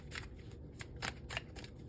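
Tarot cards are shuffled in quick, crisp riffling bursts, several papery flutters spaced unevenly, close and quiet with no talking.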